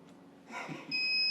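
Steady electronic beeping from an off-grid solar power system (Sol-Ark inverter with HomeGrid batteries) begins partway through, a sustained high tone that keeps going after a brief burst of breathy noise.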